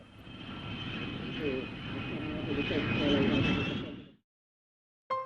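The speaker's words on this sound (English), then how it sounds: "The dramatic curtain raiser to the show is the arrival of the American spy plane SR71" American SR-71 spy plane arriving after a transatlantic flight, a loud broad jet roar with a thin high whine that swells and holds for about four seconds before cutting off abruptly; a brief voice follows.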